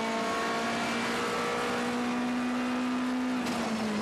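A WTCC touring car with an Orica-built engine at the 2014 Japan race is held at full throttle down the straight. It makes a steady, loud drone that rises slightly in pitch, then dips briefly near the end.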